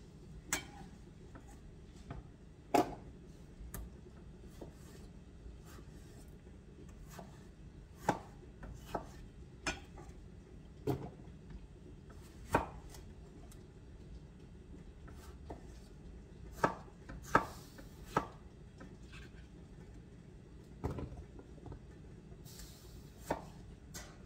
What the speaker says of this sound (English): I can't seem to get all the tomatoes cut the same size.